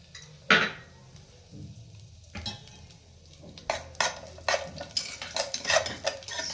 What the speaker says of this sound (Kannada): ಇವಾಗ ನಾನು ದ್ರಾಕ್ಷಿ ಮತ್ತು ಗೋಡಂಬಿನ ತುಪ್ಪದಲ್ಲಿ ಸಪ್ರೇಟಾಗಿ ಹುರ್ಕೋತಾ ಇದ್ದೀನಿ